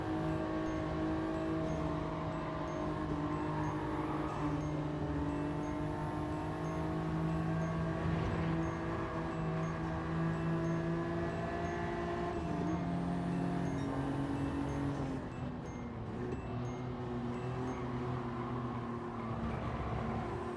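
A Nissan 300ZX races in Gran Turismo 7, its engine holding a steady, continuous drone with gear-shift pitch steps and other cars audible around it.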